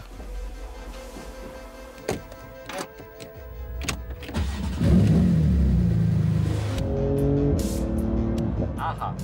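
A 700 hp sports car, set in PDK Sport, pulls away and accelerates with a deepening, rising engine roar that swells midway and holds loud, after a few clicks and clunks, with people talking over it.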